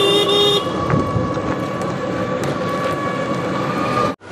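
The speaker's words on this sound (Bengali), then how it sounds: "আমাদের ট্রেন চলে এসছে" A train pulls into a station with a loud, sustained horn blast at the start, followed by steady rumbling wheel and engine noise until an abrupt cut.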